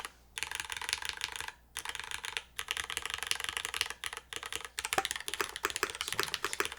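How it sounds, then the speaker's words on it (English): Mechanical keyboard with an O-ring mount, aluminum plate and MX2A switches, typed steadily in fast clacking bursts, close and clear, with two short pauses and denser, harder keystrokes toward the end; no talking. "Let's see what this board sounds like in the O-ring configuration with the aluminum plate."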